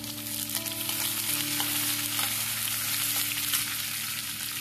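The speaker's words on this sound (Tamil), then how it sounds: "சேர்த்து நல்லா டிரான்ஸ்பரண்டா வெங்காயம் வர்ற அளவு வதக்கிக்கோங்க." Shallots, garlic and coconut sauté in a hot pan for a drumstick-leaf thuvayal, giving a steady, close frying sizzle with faint stirring scrapes and no talk.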